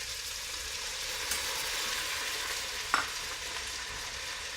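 Green peppers fry in olive oil and bacon fat for beans and rice, giving a soft continuous sizzle with a single sharp scrape of a utensil near the end, no talking.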